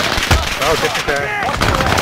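Dense video-game combat during an airstrike, loud continuous gunfire and explosive bursts filling the whole moment, with a brief voice in the mix.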